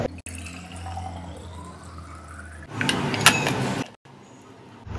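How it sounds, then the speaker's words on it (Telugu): Water being poured into a kitchen oil dispenser bottle, with a steady trickling fill that ends in a brief louder splashing burst, heard up close in a quiet kitchen with no talking. "ఇప్పుడు ఈ బాటిల్లో నేను ఆయిల్ బదులు వాటర్ వేసి చూపిస్తాను ఎలా వర్క్ చేస్తుంది అనేది."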